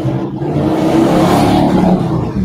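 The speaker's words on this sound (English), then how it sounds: "someone have the highway right outside their door" A car roars past close by, loud engine rising and sweeping through, with steady road noise and no voices.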